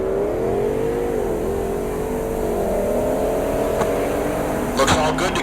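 A Duramax diesel Chevelle drag car sits revving at the line at Heartland Park Topeka, its engine droning steadily with slight pitch wobbles and a few sharper bursts near the end.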